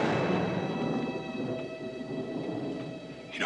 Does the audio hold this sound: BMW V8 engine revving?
no